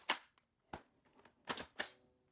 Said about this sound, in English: I find myself repelling swarms of bugs with Nerf blasters